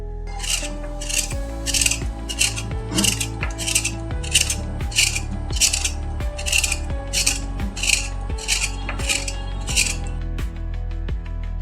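Pointed gourds (potol) are scraped clean with a kitchen knife in a steady run of about a dozen close, rasping strokes, each a short gritty scrape, over a constant low background tone.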